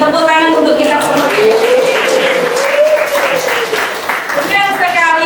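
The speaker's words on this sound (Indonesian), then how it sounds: "Tepuk tangan untuk kita semua." A class of schoolchildren claps during an Islamic studies lesson. The applause is loud and close, and voices call out over it with a rising and falling vocal tone running through most of the stretch.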